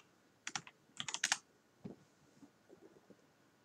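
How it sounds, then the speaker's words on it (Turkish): A few quick bursts of computer keyboard typing while logging into a Windows Server 2022 Datacenter machine, with sharp key clicks clustered together and then softer scattered taps trailing off in a quiet room. "Yazıyorum."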